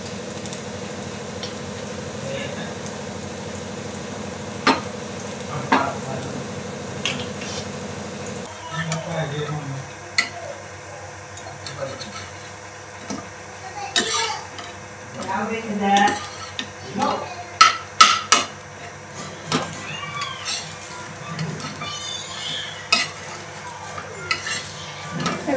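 Soybean tikki frying golden in a pan, a soft background sizzle broken by scattered clinks and scrapes of a utensil against the pan, growing busier toward the end.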